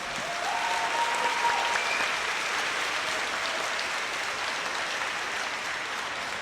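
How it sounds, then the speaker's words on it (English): A crowd at an award ceremony for the Bradley Central Bearettes applauds the team's supporters, a sustained, even wash of clapping that fills the room from start to finish. "we give a great round of applause to all of the supporters of the"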